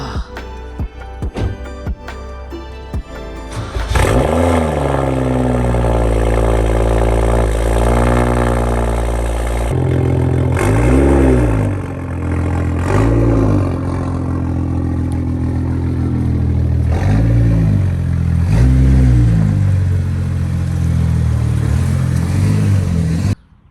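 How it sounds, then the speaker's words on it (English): A loud straight-piped BMW 335i engine cranks on a cold start and roars to life, revving hard several times with a harsh, raw exhaust note before settling into a rough idle. "Now here's a cold start. This is gonna be brutal."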